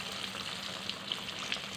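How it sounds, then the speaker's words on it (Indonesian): Battered catfish pieces fry in hot oil, a soft continuous sizzle with small crackling pops, faint and close, with no talking. "Kita goreng ikannya sampai matang."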